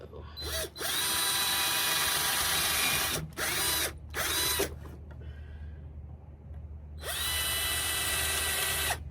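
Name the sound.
power drill drilling pilot holes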